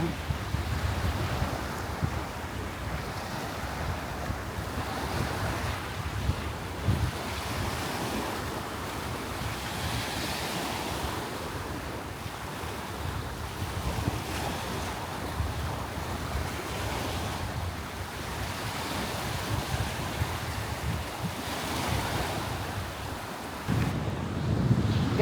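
Ocean surf washes up a sandy beach at an island resort on a windy morning. Waves rumble and roll in a steady, continuous wash, with gusts buffeting the microphone throughout.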